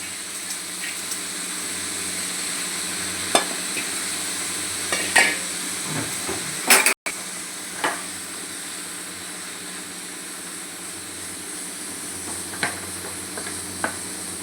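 Fresh washed, chopped fenugreek leaves cook slowly over low heat in a pan, giving a steady soft sizzle with occasional stirring scrapes and clicks, close and continuous, with no talking.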